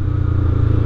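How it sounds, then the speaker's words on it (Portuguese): Motorcycle fitted with a Fortuna mini exhaust running close by, a steady low engine drone with a rough, buzzy pulse and no clear revving. "Esse escape aqui, um escape Fortuna, um mini Fortuna, né?"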